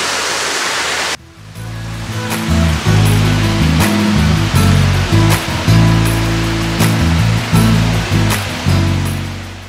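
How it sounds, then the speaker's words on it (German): A mountain stream rushes through rocky washouts in the Diebsöfen gorge near the Schleier waterfall, making a loud, steady broadband roar with occasional low thumps and bumps close to the mic. "Und hier drin sogar der Bach, das ist auch nicht normal."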